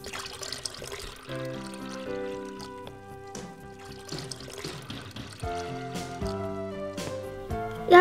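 Water pours steadily into a Frozen Elsa and Anna toy, a soft continuous trickle running under a bright, tinkling toy melody that plays throughout.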